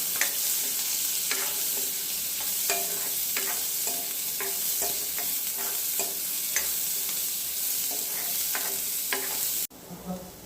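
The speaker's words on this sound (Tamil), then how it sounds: "நல்லா வெங்காயம் வதங்கிடுச்சு" Steady sizzling of garlic and onions sautéing in a pan, with a spoon scraping and stirring at irregular intervals, then an abrupt drop near the end.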